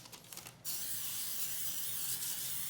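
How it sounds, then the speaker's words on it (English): A steady cooking spray hisses for about two seconds after a brief quieter moment, close and continuous, while greasing a baking pan for lemon bars. "then I spray again"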